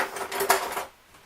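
A spoon is lifted from a cluster of metal cutlery, giving a short close jangle of clinking utensils with a bright ring that fades quickly into quiet.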